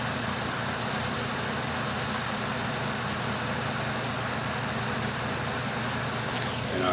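A portable washing machine drains water in a steady, even rush with a low motor hum, unbroken from start to finish.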